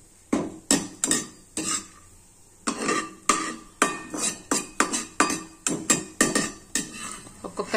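Ceramic bowls and metal utensils clink and knock in short repeated bursts while pongnalu made with fresh coconut are served, fairly close and with no talking.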